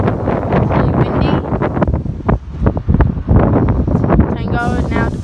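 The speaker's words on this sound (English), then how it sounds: "It's really windy." Heavy gusts buffet the microphone with a constant low rumble and roar, loud and close, at Rockdale station in NSW, while a person speaks faintly underneath.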